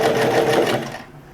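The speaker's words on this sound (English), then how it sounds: "What I'm doing is I'm top stitching the shoulders down." A sewing machine runs fast and close while top stitching the shoulders of a T-shirt, a steady whirring buzz that stops abruptly near the end, with no talking.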